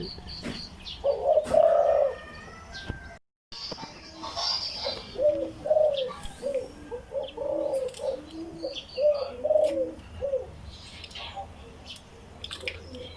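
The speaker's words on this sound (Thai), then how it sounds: "เสียงเจ้าโคตี้นะคะทุกคน" Repeated soft coos from a spotted dove, several short hooting phrases in a steady pattern, with chirps and outdoor background noise around them.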